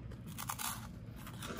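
Crunchy homemade bagelen, a crisp sugared toast, bitten and chewed up close, giving a few dry crackling crunches over about a second and a half with no talk.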